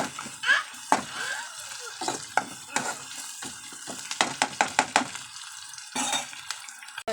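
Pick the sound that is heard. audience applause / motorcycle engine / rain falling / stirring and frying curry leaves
stirring and frying curry leaves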